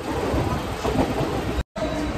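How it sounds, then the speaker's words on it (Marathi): A Kalyan-bound local train runs with a steady, loud rumble and rattle heard from inside the carriage, cut by one brief dropout. "कल्याण ट्रेनमध्ये बसलेलो आहोत."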